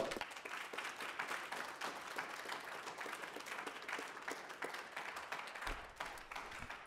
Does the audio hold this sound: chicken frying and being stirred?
no